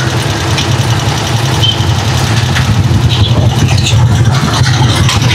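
Engines idle in heavy traffic on a bridge during a downpour, heard from a Rusi Chariot 175 tricycle: a loud, steady, close low rumble of motors with no break and no talk.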